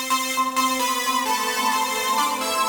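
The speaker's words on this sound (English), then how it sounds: "That's added a kind of, a nice kind of echo onto it." A buzzy synth lead plays a run of notes, with echoes trailing each one and smearing into the next, giving a spacious repeating tail.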